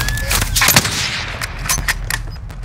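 Video game sniper gunfire, a handful of sharp cracking shots scattered irregularly over a dense low battle rumble, loud and close with fainter distant reports between.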